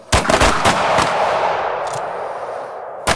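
Sharp pistol gunshots ring out during a close retention shooting drill, a quick burst of several cracks in the first second, then a fading reverberant tail and one more shot at the end, close and loud.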